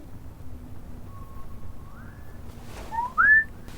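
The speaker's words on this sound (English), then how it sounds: "Did you hear the whistling that we've been hearing every episode?" Faint, eerie whistled notes in The Wheel of Time TV series drift in, sliding upward, with a louder rising whistle near the end over a low background rumble.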